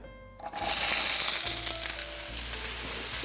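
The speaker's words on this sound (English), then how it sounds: "I'm gonna go ahead and add this asparagus into the pan rather." Asparagus drops into a hot pan with a sudden loud burst of sizzling, then settles into a steady, close frying hiss with faint stirring clinks and no talking.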